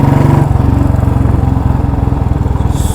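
A 2011 Royal Enfield Electra 350cc single-cylinder motorcycle runs close by, its engine thumping in a rapid, even beat at a steady idle, loud and alone with no talking.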